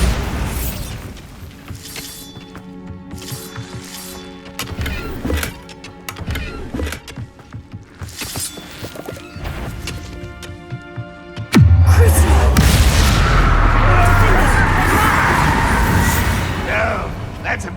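A Bombarda blast spell in Hogwarts Legacy lands with a sudden loud explosive burst partway through, leaving a sustained roaring, crackling rumble over game music.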